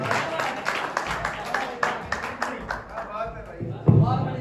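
Audience applause at a live stage show for an acting studio, dense clapping running throughout, with a louder burst near the end and voices mixed in.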